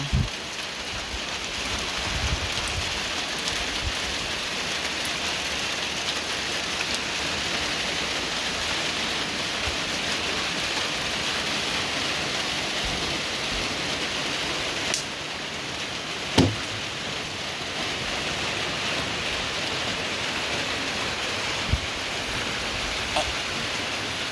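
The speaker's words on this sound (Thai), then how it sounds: "บรรยากาศฝนตก" Steady rain pours down in a dense, even hiss, with a few faint drips and knocks standing out; no voices.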